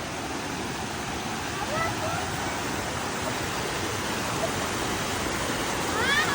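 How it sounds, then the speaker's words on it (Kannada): Water rushes forcefully in a steady, broadband roar that holds evenly throughout at a moderate distance, with no gaps or changes in level. "ಸಖತ್ತು ನೀರು ಫೋರ್ಸಾಗಿ ಹರಿತಾ ಇದೆ"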